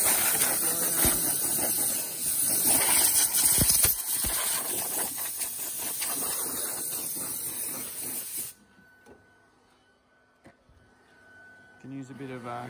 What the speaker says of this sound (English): When you're finished, we can give it all compressed air.